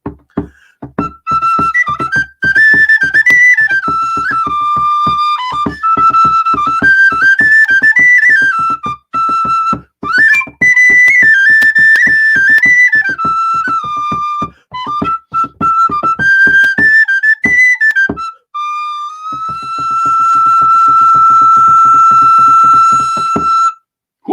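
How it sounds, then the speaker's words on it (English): Penny whistle played live at a pub night, running through a lively Irish folk tune with bright, ornamented melodic runs and a steady held note near the end, loud and close, alone without talk. "Mr. James Champagne on the penny whistle, ladies and gentlemen."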